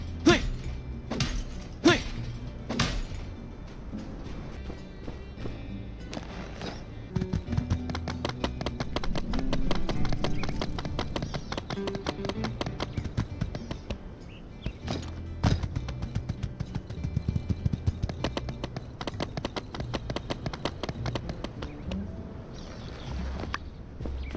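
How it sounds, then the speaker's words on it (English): Horse hooves clip-clop steadily while riding in the video game My Time at Sandrock, a repeating rhythm of light footfalls set against game music and ambient sound. "I've been riding on my horse."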